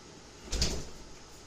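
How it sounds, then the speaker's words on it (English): A single soft thud of a door shutting nearby, brief and muffled, with a quiet room around it. "Let me close this door"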